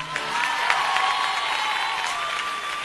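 A concert crowd applauds and cheers a Spanish band, a dense, steady wash of clapping with shouts mixed in, loud and sustained throughout, with faint tonal music or feedback lines running underneath.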